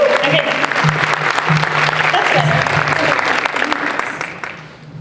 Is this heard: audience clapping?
yes